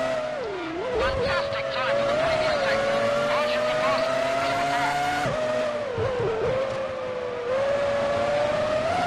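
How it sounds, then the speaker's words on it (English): Formula One race cars at the 2003 San Marino Grand Prix, a McLaren among them, scream past in a loud, continuous high engine whine that rises and falls with gear changes, under steady commentary. "He's fighting on the back of Kimi Raikkonen in the McLaren."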